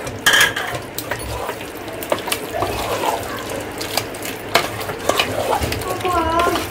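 A spoon scrapes and clinks in a pot as mutton biryani masala with yogurt and chili powder is stirred, giving irregular metallic taps and wet swishing over a low background hum.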